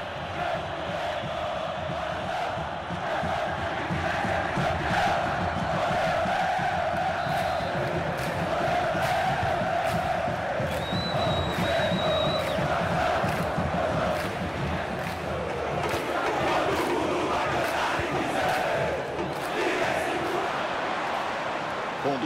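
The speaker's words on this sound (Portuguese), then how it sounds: "A torcida faz barulho." Stadium crowd noise from the FIFA 23 video game during a Ceará versus Sport cup final match, a steady dense roar of fans with swells of chanting and cheering beneath a commentator's speech.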